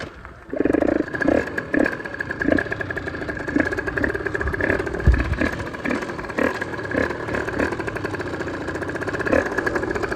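A motorcycle engine runs steadily after being push-started, a continuous mid-pitched idle with slight revving, loud and close, with no talk over it.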